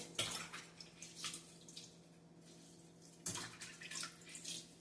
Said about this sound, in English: all I'm using right now is the lime to wash my meat